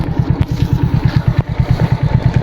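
A motorcycle engine idles nearby with a steady, rapid low-frequency putter and occasional clatter, run on the owner's chosen gasoline. The bike is six years old, with a gold chainset and a side cover removed for cleaning.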